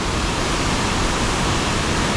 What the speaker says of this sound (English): Look at how big is that waterfall.